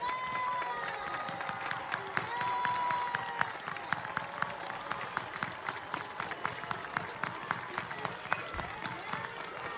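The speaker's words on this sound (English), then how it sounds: "seniors, please give a round of applause to your biggest supporters and biggest fans." Seniors at a Steel Valley High School class of 2023 commencement ceremony applaud their parents, a dense sustained clapping from a large indoor crowd with scattered cheers, lasting the whole stretch.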